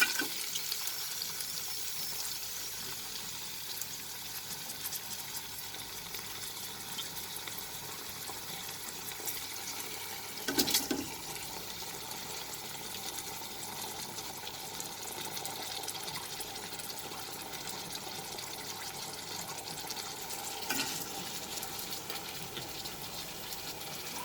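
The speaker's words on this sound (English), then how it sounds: "I'll reduce the flame and I will add the soaked rice" Soaked rice tipped into a pan of green peas frying in oil over a lowered flame for peas pulao, with steady low sizzling and occasional brief scraping bursts while it is stirred; no voices.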